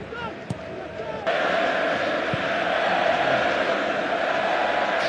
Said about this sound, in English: crowd singing his name